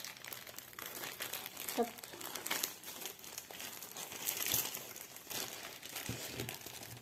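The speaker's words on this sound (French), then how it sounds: "On va essayer de bien emballer." A diamond painting canvas gets wrapped in crinkly packaging, giving repeated close crumpling and rustling crackles in irregular bursts, with a brief spoken word in the middle.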